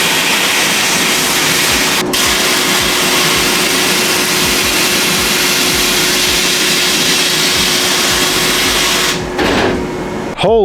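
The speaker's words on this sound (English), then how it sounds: "So let's see what this blaster does on mill scale and rust." A sand blaster removes mill scale and rust from steel with a loud, continuous roaring hiss that stays steady throughout and cuts off near the end.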